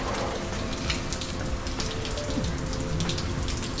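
Steady rain falls in Norway, a dense, even patter on surfaces that continues without a break, with faint background sounds underneath and no voices.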